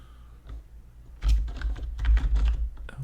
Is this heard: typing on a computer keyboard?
yes